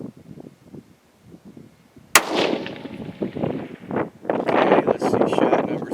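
A single sharp rifle shot, fired at a steel target 400 yards away, cracks loudly and close after a quiet stretch, then gusty wind noise rushes over the microphone.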